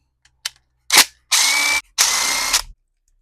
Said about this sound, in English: while we take these 7mm bolts out of the bottom